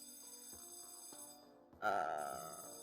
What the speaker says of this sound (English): The bells ring again.